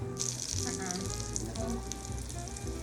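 Butter melting in a hot pan at the start of a sauce for chicken and potatoes, giving a soft continuous sizzle and crackle beneath quiet kitchen background noise.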